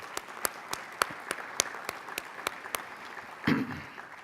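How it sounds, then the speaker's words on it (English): Applause at an annual meeting, with scattered, evenly spaced claps rather than a full wash, steady and moderately close, ending with a brief rustle or murmur. "Please join me in a round of applause in thanking Bruce."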